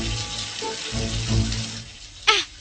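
Running water from a tap in a cartoon, a soft continuous trickle and splash, close and moderately quiet, ending with a brief bright squeak.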